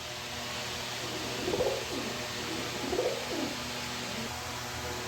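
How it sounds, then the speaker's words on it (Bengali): Two distinct throaty coos come from a nervous male pigeon kept for sale, each a short rolling burst with a pause between, close to the listener over a faint steady hiss. "ভয়ে আছে কবুতর, অনেক ভয় পাইতেছে।"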